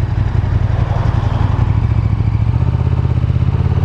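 KTM Super Duke GT motorcycle being ridden with a quick shifter, engine droning loud and steady at mid pitch with a continuous rumble and some clatter, no talk over it.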